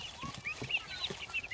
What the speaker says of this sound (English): These are my turkeys.